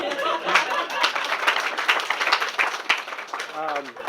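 An outdoor audience at a school groundbreaking ceremony claps in a loose scattered burst, moderately near, with people talking and chuckling over the applause toward the end.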